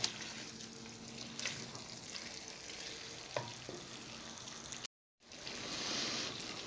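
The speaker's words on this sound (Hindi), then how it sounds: "अच्छी तरह मिक्स करेंगे।" Chicken karahi in a creamy white sauce with coconut powder sizzles steadily in a hot pan while being stirred, a continuous close frying hiss with a brief dropout near the end.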